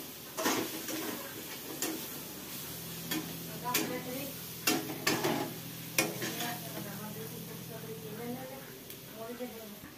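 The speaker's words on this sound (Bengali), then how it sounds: "এবারে আমি হালকা করে আমি একটু মিক্স করে দিচ্ছি, পুরো লাল হয়ে গেছে।" A spoon stirring a red pasta sauce mixture in a pan, repeated scraping and tapping strokes over a light sizzle, close and moderately loud, with a person talking throughout.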